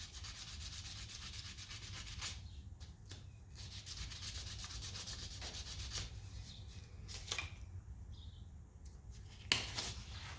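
Hand sanding a custom harp button with 500-grit sandpaper, a faint continuous close rubbing rasp with a few sharper scrapes and a small knock near the end.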